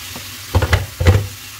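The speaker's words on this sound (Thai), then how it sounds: "ผัดให้หอมก่อนค่ะผัดให้เครื่องให้หอม" Frog meat is stir-fried with spice paste for a Thai-Lao frog curry with dandelion greens, in two short bursts of sizzling and scraping against a quiet background, close and fairly loud, without voices.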